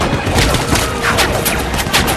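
Dense, rapid gunfire from a war scene fills the whole stretch, overlapping shots cracking in quick bursts, loud and close with no pause.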